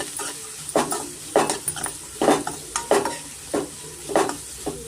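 A spoon stirs mushroom curry with turmeric in a pan over a medium flame, giving about eight rhythmic scraping strokes over a steady, gentle sizzle of frying.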